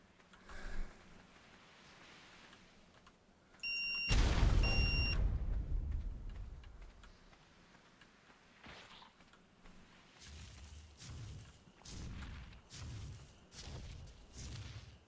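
Explosive blowing down a gate in Ark: Survival, a sudden loud boom after a short beeping countdown, rumbling and decaying over a couple of seconds, followed by quieter thuds and movement sounds.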